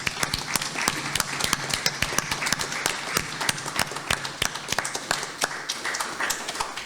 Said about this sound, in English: So big round of applause to the funders.